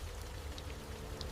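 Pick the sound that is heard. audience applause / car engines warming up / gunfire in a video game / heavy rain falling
heavy rain falling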